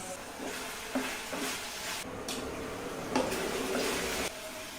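Spice powders and curry leaves stirred in a pan while cooking a Kerala okra mappas, with a steady low sizzle and soft scraping strokes close by, a few sharper scrapes standing out.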